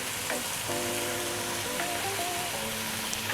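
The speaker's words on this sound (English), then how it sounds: "We're going to drop in the curry powder." Garlic ginger paste and curry powder frying in a pot for a spicy pumpkin soup, a continuous even sizzle that stays steady and close, with faint stirring clinks and no talk.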